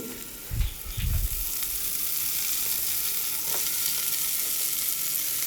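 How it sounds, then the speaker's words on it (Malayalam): Chopped onion hissing and sizzling in hot oil with mustard seeds, a steady loud fry broken by a couple of low thumps near the start as the onion goes into the pan. "കടുക്കൊക്കെ ഇട്ട് മൂപ്പിച്ച് അപ്പോൾ ഞാൻ ഒരു വലിയ ഉള്ളി ചെറുതാക്കി അരിഞ്ഞത് അതും അതിക്കിട്ട് കൊടുത്തേക്കണേ"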